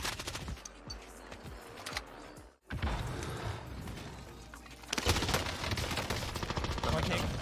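Gunfire in the Warzone video game, dense bursts of shots and impacts running through most of the stretch with a brief drop to near silence partway, busy game noise throughout.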